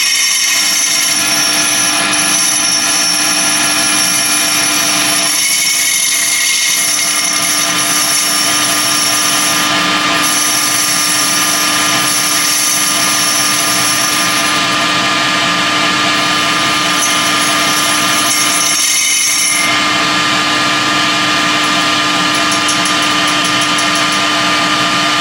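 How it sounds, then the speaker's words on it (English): A lathe machines a taper onto a Honda Africa Twin motorcycle fork tube, giving a steady loud whine and hum with high tonal ringing that runs unbroken, dipping briefly twice. "Okay, so we've machined our taper."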